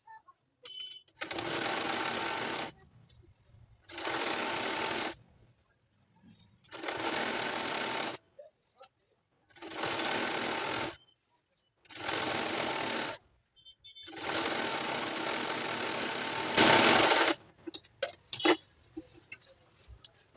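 Sewing machine stitching a lehenga, running in six steady bursts of a few seconds each with short pauses between, close and fairly loud, with no talking.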